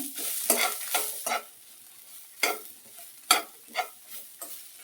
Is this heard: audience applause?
no